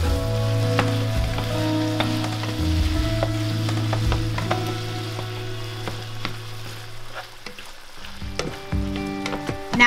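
Lean ground beef fries with softened onions in a pan, a steady close sizzle with occasional scraping and stirring knocks, no talk.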